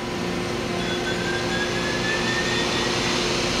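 A Mori Seiki SL-253B CNC lathe spindle runs at 2000 RPM, giving a steady, even machine whir with a faint high whine. It holds at the same level throughout, with no voices.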